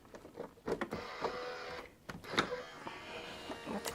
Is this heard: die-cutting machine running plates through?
yes